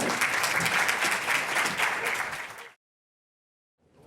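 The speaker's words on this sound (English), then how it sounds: "if you wouldn't mind giving them a round of applause." Audience at a spring communication forum gives panelists a round of applause: dense, steady clapping from a crowd for about two and a half seconds, ending abruptly, then silence before faint sound returns.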